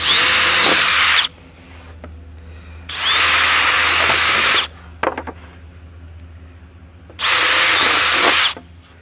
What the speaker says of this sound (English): we need to drill some holes